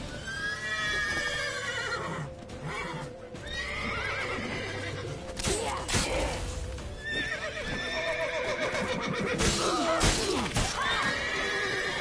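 Horses neigh and whinny repeatedly over hooves clip-clopping, with a busy, layered game soundscape; loud and close throughout.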